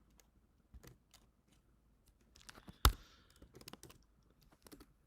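Computer keyboard typing in a quiet room, a few scattered key clicks followed by a short quick burst of keystrokes with one louder tap, close and fairly faint.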